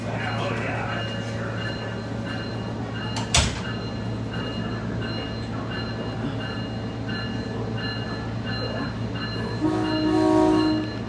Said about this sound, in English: The driver blew the horn in the quiet zone.